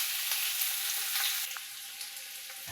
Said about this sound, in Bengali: এদিকে আলুটা ভাজা চলছে।